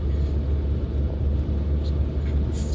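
A 1990 Rover 820 Si Fastback cruises on a smooth road, heard as a steady, even low rumble inside the cabin with no talking.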